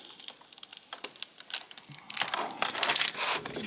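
Thin plastic film crinkles and tears in short irregular bursts, growing denser and louder toward the end, close up, as an action figure set is unboxed.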